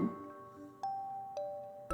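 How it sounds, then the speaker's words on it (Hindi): A small bell tied around the neck of a white goat gives three bright, separate tinkling rings at an even pace, each one fading out slowly in a quiet setting. "इसके गले में छोटी सी घंटी बंधी हुई थी। जब मोटू चलता था तो घंटी बजती थी"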